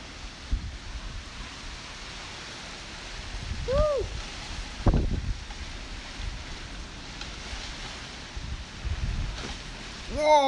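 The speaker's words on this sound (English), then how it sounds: "Some gusty winds going off right now." Strong hurricane gusts roar in waves around the microphone in Fort Myers, Florida, a steady rushing bed that swells and buffets with louder bursts, and a voice briefly exclaims.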